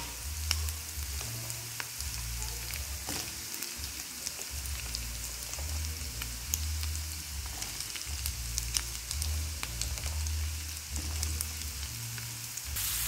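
Bottle gourd pieces sizzle steadily in a hot pan, a continuous close crackle with faint scattered pops and a low background hum, no voices.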